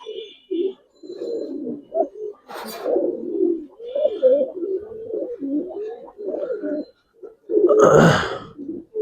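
Giribaz pigeons coo steadily and close by in a continuous, rolling series of low throaty calls, with a brief rustle or wing flap near the middle and a louder burst of flapping near the end.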